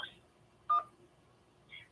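A single short telephone keypad DTMF tone sounds as a menu option is pressed on an automated phone line, clear and brief, with faint fragments of a recorded voice before and after.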